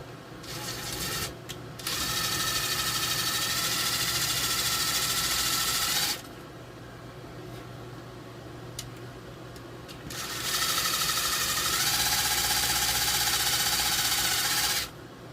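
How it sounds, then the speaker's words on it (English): A power drill whirs loudly in two long bursts, grinding as it bores through metal fasteners on a Sears Silvertone AM radio, with a quieter pause between them. "Alright, guys, I'm going to drill those out."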